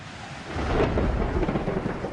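Rolling thunder from a winter thunderstorm, a deep sustained rumble that swells after the first half-second and stays loud and broad with rain-like hiss, no voices.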